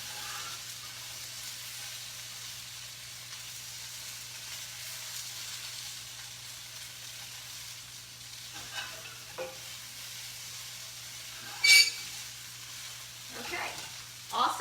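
Tofu browns in a pan with a soft, steady sizzle throughout. A few brief clinks and scrapes from cookware break in near the end.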